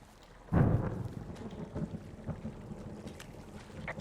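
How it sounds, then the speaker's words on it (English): Distant thunder in the video game Firewatch, a single low rumbling boom near the start that rolls off into a long, steady windy outdoor ambience, with no talking. "Hey, I heard some thunder."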